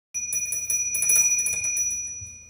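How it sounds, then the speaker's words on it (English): The mechanical ringer of an old telephone rattles steadily as its metal clapper strikes the bells, a close, bright, continuous ring for about two seconds. "There is also a mechanical ringer and a generator in parallel across these lines."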